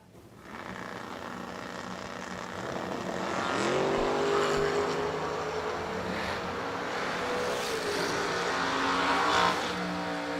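Drag race cars launching down the strip at World Wide Technology Raceway: a rising engine whine sweeps up, then settles into a loud, sustained roar that holds to the end, with no talk over it.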